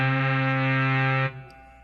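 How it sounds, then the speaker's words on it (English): A Moog synthesizer sounds combined oscillator tones as one loud, steady buzzy chord rich in harmonics, held for over a second before cutting off abruptly and leaving a faint tail. "We begin here with with an oscillator which generates the tone."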